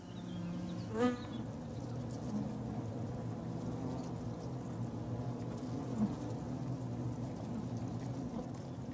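Wild bees buzz around their hive in a dense, continuous drone, with individual insects passing nearby now and then.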